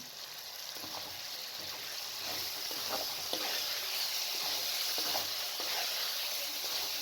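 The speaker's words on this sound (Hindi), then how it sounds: "अब ब्लेंड किए हुए जो टमाटर हैं वो शामिल कर लें।" Blended tomatoes hiss and sizzle steadily as they hit fried spices in hot oil for a Pakistani gobi chicken curry, a loud, continuous frying crackle with occasional soft stirring clicks and no talk.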